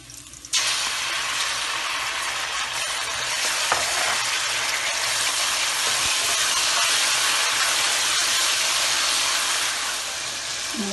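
Garlic and ginger dropped into hot oil with onions for a Shimla mirch qeema, bursting into a loud, steady sizzle that starts abruptly and holds without a break for about ten seconds.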